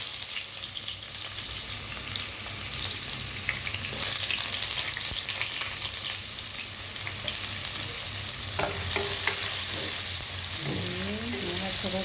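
Chopped onions with whole cumin seeds frying in oil in a pan, a dense steady sizzle with spoon stirring and scraping, growing busier toward the end, close with no talk.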